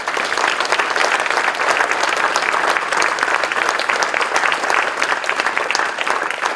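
An indoor audience at a French political public meeting claps in sustained, dense applause, steady and loud throughout with no voices standing out.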